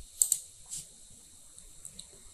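Two quick, light computer mouse clicks on the Windows 10 Start button, close together and near, followed by near silence.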